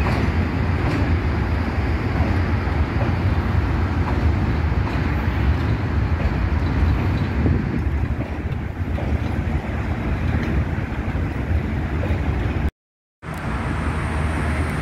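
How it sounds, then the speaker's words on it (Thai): A long, continuous rumble of a heavy freight train crossing the Rama VI Bridge, steady and fairly loud, with a broad rushing roar and no voices. "ข้างบนนี่ก็รถไฟพ่วงกันยาว ๆ"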